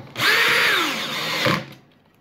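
A power drill or screwdriver drives screws during assembly of a variable-pitch propeller, a single close, loud whirring burst that winds up over about a second and a half, then cuts off abruptly.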